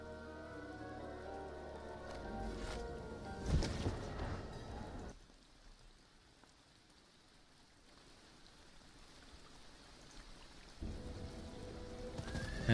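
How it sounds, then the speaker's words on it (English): A rain-sounds recording plays during a Diablo 4 game stream, a steady hiss of rainfall with drops that dips quieter midway, then returns at full level with a brief louder burst near the start. "And also put on my rain sounds."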